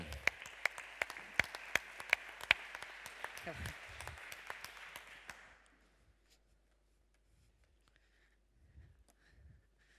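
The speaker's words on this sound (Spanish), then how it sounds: "Fuerte el aplauso para ella que toma escenario" A Spanish forum audience on vocational training applauds as a speaker takes the stage, a few loud sharp claps over a dense patter that fades out after about five seconds, leaving near silence with faint voices and movement.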